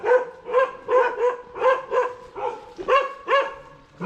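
Several dogs barking close by in a market area in Leh, giving a rapid series of about eight loud, sharp barks in a steady rhythm.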